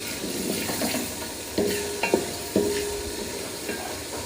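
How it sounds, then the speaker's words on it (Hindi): Curry paste for kadhi roasting in a pan, a steady close sizzle with several sharp spoon scrapes and knocks against the pan. "अब हम इसकी भुनाई करेंगे अच्छे से"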